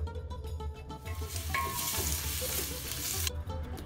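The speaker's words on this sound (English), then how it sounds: "Saute until soft or mix for 3 to 4 minutes until they are lightly fried" Onions sizzle and fry in a pan with orange zest and grated ginger, a steady crackling hiss with stirring scrapes, close and fairly quiet, with no voices.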